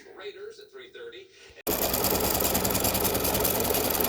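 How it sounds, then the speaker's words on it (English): An embroidery sewing machine stitches a heart in silver thread, starting abruptly with a loud, dense, rapid mechanical chatter that runs steadily after a brief stretch of a person talking. "I started on the outside heart, which I'm stitching in silver."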